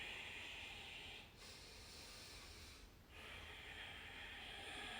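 Slow, deep breaths through the nose in yoga practice, a long airy hiss that dips briefly twice, steady and close with no talking.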